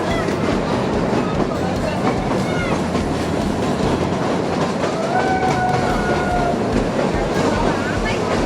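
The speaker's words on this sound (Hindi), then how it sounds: "अभी हमारी ट्रेन चलेगी।" Kalka to Shimla toy train rolling along its mountain tracks, with continuous close rumble and wheel clatter and a brief high wheel squeal partway through. Voices talk over the noise.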